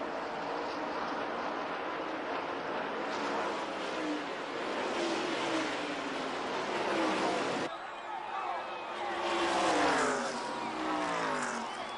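IROC race cars run in a tight pack on a track, their engines roaring loud and continuous as they sweep past, with the pitch rising and falling. An announcer talks over the racing.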